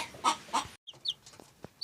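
Hens on their nests clucking in short bursts, a couple of louder calls followed by softer, scattered clucks and a few sharp notes nearby.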